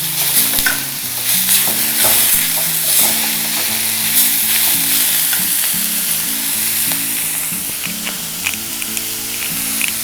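Drumstick flowers fry in a pan with a loud, close, continuous sizzle and repeated scraping stirs, steady throughout with no talking.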